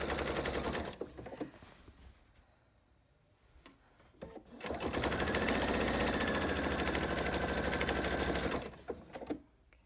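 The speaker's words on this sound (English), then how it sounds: "straightforward 1/4 inch sewing all the way along" A sewing machine stitches quilt binding with a straight quarter-inch seam, running in a loud steady whir, pausing briefly, then running again for several seconds before stopping.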